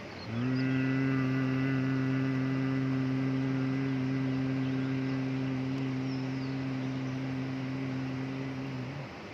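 A person performs Bhramari pranayama, the bee breath, holding one long, steady, low nasal hum for about eight seconds before it stops, close and even over quiet room tone.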